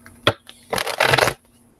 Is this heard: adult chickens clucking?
no